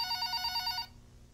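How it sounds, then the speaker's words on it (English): In a haunted house video game, a telephone bell rings in a fast trilling burst with a steady pulsing pattern, then cuts off abruptly and leaves a quiet room tone. "the sound just went off and now the phone's ringing"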